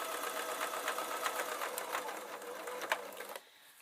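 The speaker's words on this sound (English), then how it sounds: "so what I'm doing is I'm sewing on to the next one" A domestic sewing machine runs steadily while stitching a fancy Christmas stocking, a close, fast mechanical whirring and clatter that holds for about three seconds before stopping abruptly.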